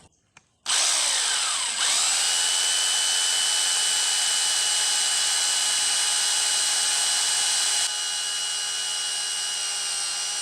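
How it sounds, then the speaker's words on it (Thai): A Pumpkin H2-26DFR rotary hammer drill with a 10 mm bit bores into inch-and-a-half-thick wood, starting abruptly and whining loud and steady for about ten seconds, close up, with no voices. "ทีนี้เราก็มาทดลองเจาะไม้ดูมั่งนะครับ"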